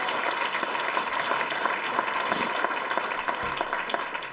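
Audience applause at a business champions event, a steady wash of many hands clapping at moderate loudness, with no pauses.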